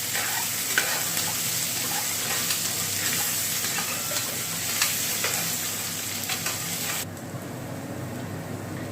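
Curry leaves and crushed ginger fry in an oil-filled pan for a millet pongal, giving a steady close sizzle with light stirring scrapes throughout, no voices.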